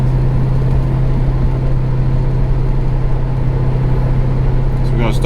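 Steady, loud drone of an LS-swapped 1973 Chevy Nova engine holding a low, even tone in second gear before a wide-open-throttle pull, with no clear climb in revs.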